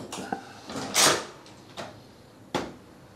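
A hotel room door at a resort being opened and closed, a few sharp knocks and latch clicks with a soft sweep between them, close by and without talk.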